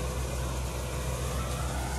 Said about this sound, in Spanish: El tractor está trabajando en el tercer cambio